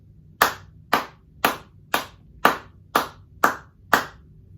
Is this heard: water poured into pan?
no